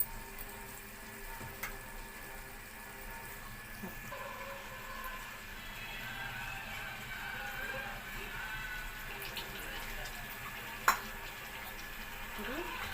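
Stuffed brinjal curry cooking in a pan as tamarind pulp is added: a low, soft simmering sizzle with stirring scrapes, and one sharp utensil clink near the end.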